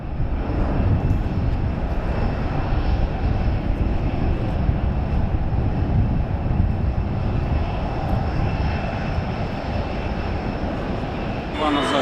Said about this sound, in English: The Condor Boeing 757 gave one final wing wave as it departed Dusseldorf Airport for the